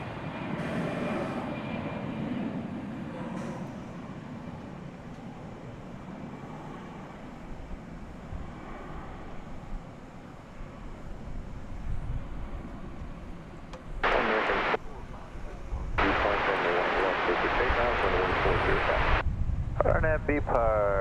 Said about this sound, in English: As we say goodbye there to American Flight 531 off to Tulsa,